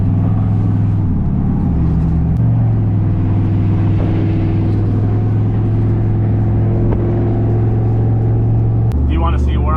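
A single-turbo 5.3 Chevrolet Silverado pickup pulls hard, its engine drone stepping in pitch through gear changes, loud and close, with someone talking over it.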